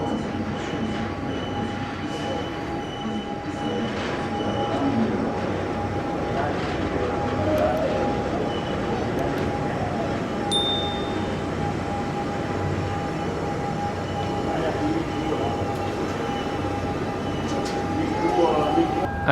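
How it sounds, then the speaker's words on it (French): Lyon's rack railway metro train running up a steep incline, a steady rumbling, rolling drone with a constant tonal whine held throughout, close and continuous, with no speech over it. "La crémaillère."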